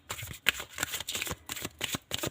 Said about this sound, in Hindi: 3 कार्ड लेंगे हम।